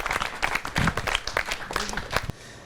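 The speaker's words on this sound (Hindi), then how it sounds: "जोरदार तालियां बजाएं अर्जुन सिसोदिया जी के लिए।" Applause for a poet at a Holi celebration, a dense spread of hand clapping from an audience that runs steadily for about two seconds and then drops away to quiet room tone.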